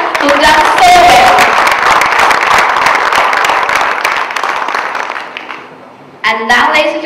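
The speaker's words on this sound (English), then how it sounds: "let's hear a huge round of applause for all of you sitting right here who've done so well" An audience claps loudly for honoured attendees at a hosted event, dense applause with a few whoops that gradually fades away, then a voice starts speaking.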